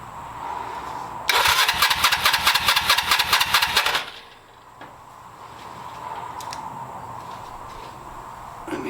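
A 1982 Suzuki GS300L motorcycle, its carburetors freshly cleaned, cranks and catches with the choke out. A loud rapid rhythmic starter burst runs for under three seconds, then drops to a steady, quieter idle.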